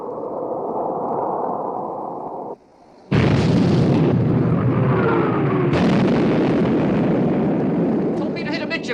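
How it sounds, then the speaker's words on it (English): Heavy gunfire from a warship's main armament in a 1960 naval battle film: loud, sustained booming blasts follow a low rumble, broken by a brief near-silent gap, with a voice faintly present. "Open fire, main armament."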